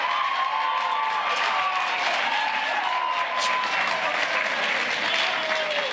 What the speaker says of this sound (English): Give all of our finalists a huge round of applause.